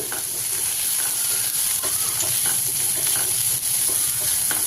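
Large-cut onions frying in a pan for okra and mango pulusu, a bright continuous sizzle with occasional scraping stirs and small pops, close and steady, no talking.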